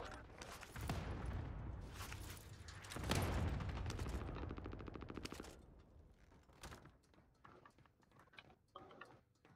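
Sniper fire from a stronghold tower in an online shooter video game, dense bursts of gunfire and explosions crowding the first half, then thinner scattered shots and mechanical clicks trailing off.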